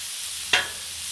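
A pound of Trader Joe's uncured bacon on a Blackstone griddle, heard as a steady, bright hiss of sizzling fat with one sharp tap partway through.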